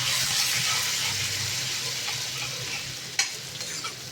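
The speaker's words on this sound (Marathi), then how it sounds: "कांदा परतून घ्यायचा." Chopped onion sautés in hot oil with cumin and mustard seeds, sizzling steadily up close while being stirred. A few sharp clicks of the spoon against the pan come near the end, and there is no talk.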